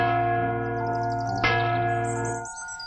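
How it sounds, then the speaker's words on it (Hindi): A single bell rings out with a long, resonant tone that decays over a few seconds and fades away near the end, heard alone and close. "इसीलिए जब भी राजा छींकता, घंटी तुरंत बजती, लोगों को यह बताने के लिए कि यह उनके एक साथ कहने का समय है।"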